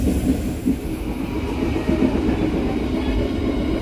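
The Merak local passenger train in Indonesia runs along the rails with a loud, continuous rumble from inside the carriage, and faint rhythmic wheel clacks sit under the steady roar.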